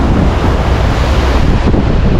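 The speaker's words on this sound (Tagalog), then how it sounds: "Alon dagat." Sea waves roll in along a coastal road on a motorcycle ride, making a loud, constant roar of surf. The sound is heavily mixed with wind buffeting the microphone, and no one speaks.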